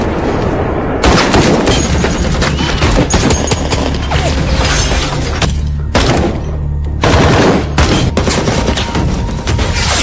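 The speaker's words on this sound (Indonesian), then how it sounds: "aksi tembak-tembakan pun tak terhindarkan lagi" Sustained gunfire in an action movie shootout as gangsters unload heavy weapons on a house, loud dense bursts of shots and booms with brief pauses between volleys.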